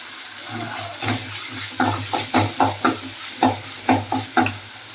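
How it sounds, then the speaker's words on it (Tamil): Food sautéing in a frying pan with rock salt: a constant close sizzle under repeated scraping strokes of a spatula, about a dozen rhythmic stirs in quick succession. "நல்லா வதக்கிக்கலாம். கொஞ்சம் கல்லுப்பு போட்டால் இன்னும் நல்லா வதங்கும்."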